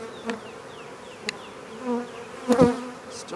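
Honeybees humming during a spring inspection of a healthy hive, a close, steady buzz with individual bees droning past in brief louder swells and a sharper flyby near the end.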